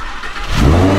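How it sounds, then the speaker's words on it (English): A Lamborghini engine starts up: a brief quiet crank, then a loud, close roar that swells and holds. "So if we go ahead and turn on this car very quickly"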